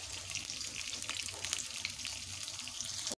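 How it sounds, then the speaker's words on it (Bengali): Eggplant pieces seasoned with salt and turmeric crackle and hiss in hot oil, a steady, close sizzle that runs without a break and cuts off abruptly at the end, with no voices. "বেগুনগুলোকে ভালোভাবে ভেজে নেব।"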